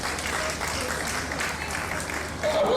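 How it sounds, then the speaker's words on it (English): Audience applause at an apiculture and agricultural value chain forum in Nigeria, a steady dense clapping from a seated crowd that holds for nearly three seconds and swells slightly at the end. "Give him a round of applause, please."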